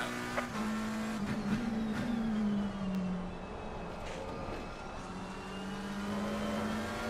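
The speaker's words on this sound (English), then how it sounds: "The car is exiting the pits" Race car pulling out of the pits in Assetto Corsa Competizione at Watkins Glen, its engine droning steadily with a sustained mid-pitched tone that rises and falls slightly, under faint background sound and no talk.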